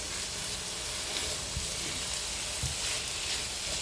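Sliced onions sizzle steadily in hot oil in a pan for a potol bhaja dish, a dense, even crackle with a couple of soft stirring bumps and no talking.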